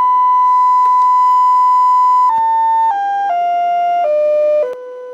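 A pure electronic test tone plays through an LM380 bridge amplifier. It holds steady, then drops in pitch in several clear steps to a lower 500 Hz tone, loud and continuous with no talking.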